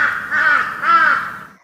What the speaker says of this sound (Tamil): கிருஷ்ணன் ஓட்டு மேல இருந்து காக்கான்னு கத்திக்கிட்டே கிடந்தானா